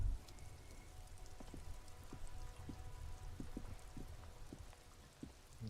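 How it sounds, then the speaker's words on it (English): Rain in a video game falls as a soft, steady patter with scattered distinct drips, faint and continuous, without voices. "This rain will not let up anytime soon."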